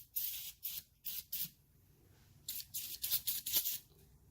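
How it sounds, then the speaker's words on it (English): PB Blaster penetrating oil sprays onto a garbage disposal in short hissing bursts, two groups of several quick, close spritzes separated by a brief pause. "So I'm going to spray some more."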